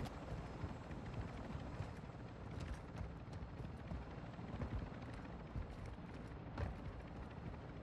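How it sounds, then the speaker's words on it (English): An enemy attack helicopter in Call of Duty DMZ thuds with rhythmic rotor beats that stay fairly faint and distant, joined by a few sharp bursts over the steady drone, with no speech. "enemy attack helo is heading your way"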